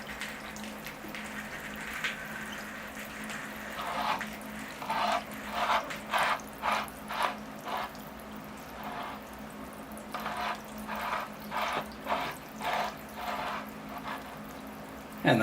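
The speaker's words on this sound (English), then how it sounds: "All right, here I go with the watering can. It's a gentle rain." A watering can pours gentle water over a bonsai tree, a soft steady trickle and splatter that rises and falls in waves over quiet background hum.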